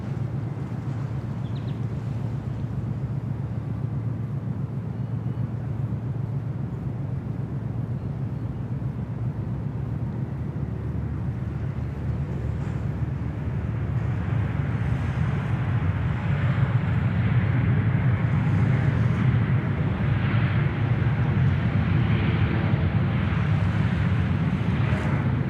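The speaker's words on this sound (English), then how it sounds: "the beautiful sound of the 320neo, some seagulls, some rolling waves" An Air New Zealand Airbus A320neo jet lands at Sydney Airport, a broad steady engine roar that swells louder toward the end, with rolling waves and wind buffeting the microphone continuously throughout.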